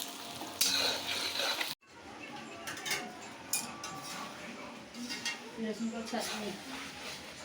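Chicken cooking in a pot on a gas stove, with steady sizzling and stirring, occasional clinks of utensils against the pan, and a brief cut partway through; speech is faint in the background.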